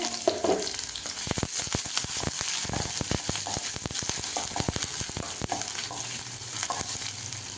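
Steady loud sizzling of mustard seeds, dried red chillies and shallots frying in hot oil for a tempering, with rapid crackling pops and spatters throughout, no voices.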